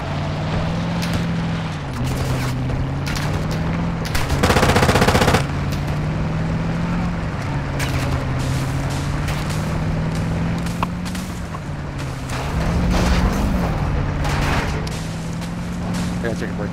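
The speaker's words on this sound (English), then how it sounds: "Taking effective fire!" Gunfire in a Call of Duty game rattles in rapid automatic bursts and single cracks, some close and loud, over a droning engine hum, while in-game voice lines sound between the shots.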